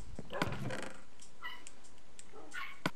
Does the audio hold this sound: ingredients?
no